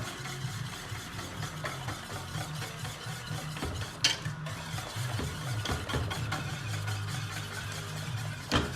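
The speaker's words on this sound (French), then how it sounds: "Et je mélange ma polenta." Polenta being worked and stirred inside a hollowed parmesan wheel, a steady close scraping and churning with a low rumbling texture throughout, occasional sharper knocks, no talking.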